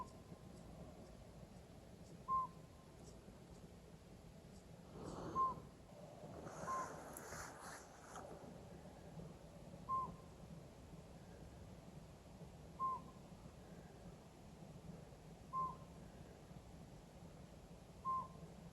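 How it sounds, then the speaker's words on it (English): A pygmy owl calls from the top of a tree in Grand Teton National Park, giving single short toots spaced a few seconds apart over a quiet hissing background, with a brief rustle near the middle. "we were able to see a pygmy owl at the very top of a tree hooting"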